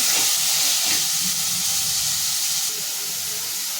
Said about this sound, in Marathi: आपल्याला ना कांदा टाकून घ्यायचे आणि कांदा चांगला तेलावरती परतून घ्यायचे.